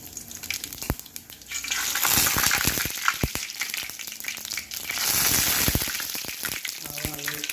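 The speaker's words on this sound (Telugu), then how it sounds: "బాండిల్లో ఆయిల్ వేసుకొని, ఆయిల్ కాగినాక ఆవాలు వేసుకోవాలండి." Mustard seeds sizzle and crackle in hot oil in a pan, with sharp pops and bursts of frying hiss over a few seconds, close and moderately quiet.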